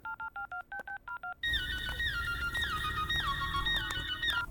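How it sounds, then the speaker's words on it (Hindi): Mobile phone keypad tones, seven short evenly spaced beeps as a number is dialed, then a ringing signal with steady background hum. "मनु को फोन करके उसे मंगवा लेती हूँ और इंजीनियर को भी कॉल करती बी हूँ।"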